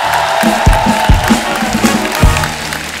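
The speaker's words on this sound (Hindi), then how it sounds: "एक बार हमारे मेहमानों के लिए जोरदार ताली हो जाए।" A studio audience on a comedy show applauds and cheers for guests, loud clapping and crowd noise with sharp low thumps punctuating the din.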